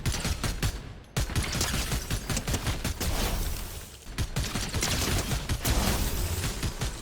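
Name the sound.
gunfire from hip-firing a gun in a video game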